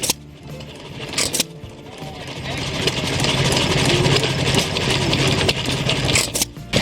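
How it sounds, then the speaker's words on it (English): Vintage 1 horsepower air-cooled International Harvester Tom Thumb engine, built between 1907 and 1916, running steadily at an outdoor engine rally with a busy mechanical chatter and a continuous rumble, joined by other crowd and engine noise. "is a Tom Thumb air-cooled engine, manufactured by International Harvester Corporation."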